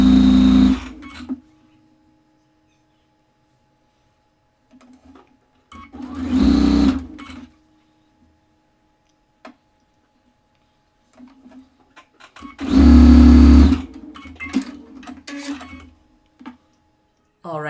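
Sewing machine stitching rows of a quilt together, heard in two loud bursts of rapid mechanical whirring separated by quieter handling noises and pauses.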